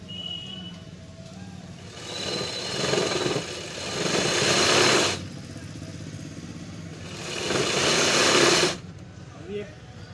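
A sewing machine stitches down the middle of a folded pant fabric in two sustained runs, each a few seconds long, with a pause between them and a quieter background hum.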